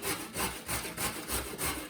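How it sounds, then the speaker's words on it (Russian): Carrot rubbed against a coarse grater, a steady scraping rasp in quick back-and-forth strokes, about seven passes in under two seconds, close and continuous with no talking. "Затем натираю на крупную терку морковь."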